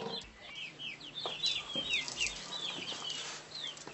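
Chickens cluck and chirp continuously around a village house yard, a busy cluster of overlapping hen calls close by with no talking.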